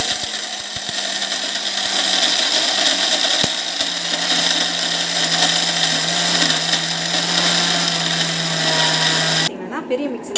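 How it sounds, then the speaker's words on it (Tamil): A mixer grinder whirs loudly and steadily for about nine seconds, grinding ingredients into powder, a constant motor drone that cuts off abruptly near the end. "மிக்ஸி போட்டு விட்டுடலாம்"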